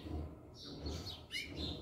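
A papa-capim mateiro bird sings a few short, bright chirping notes at a distance, faint and alone over quiet background.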